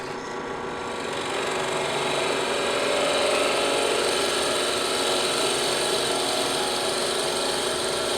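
A power drill bores a hole for the switch in a homemade CD lamp, giving a steady, continuous grinding whine that builds in the first second and then holds at an even level throughout, with no talking.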